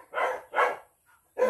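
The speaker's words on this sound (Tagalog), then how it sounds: "Ingay ng aso namin" Dogs barking at goats outdoors, a few sharp close barks in quick succession with brief gaps, loud and alone without talk.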